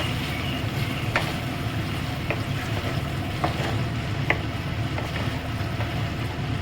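Marinated chicken is stir-fried in a spice masala. A constant close sizzle and hiss carries occasional sharp spatula taps and scrapes against the pan, with no talking.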